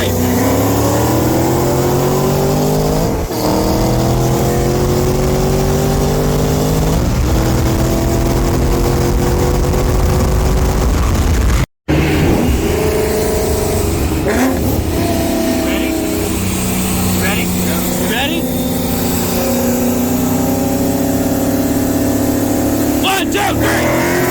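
Engine of a Shelby car revving hard at the track, a loud continuous roar with rising and falling harmonic sweeps through repeated gear pulls, briefly cut out midway before resuming close and strong.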